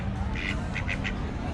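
A few short duck quacks at Epcot, Walt Disney World, sounding close and moderately loud over a low outdoor crowd hum.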